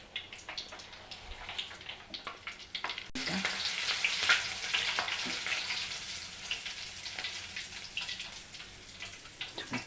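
A flattened rice (poha) mixture frying in hot oil, with a dense, steady sizzle and crackle that turns louder and fuller after a few seconds, close by, with occasional stirring and no talking.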